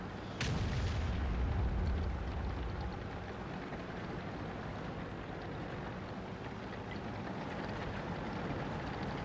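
T92 self-propelled artillery gun firing in World of Tanks: one heavy, deep boom near the start that rolls into a long, dense rumbling tail filling the rest of the stretch.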